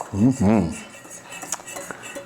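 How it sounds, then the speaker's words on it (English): Espresso mixture being whisked in a bowl, with a brief vocal sound at the start followed by light, quick metallic clinks and scrapes close by. "we're just going to keep whisking"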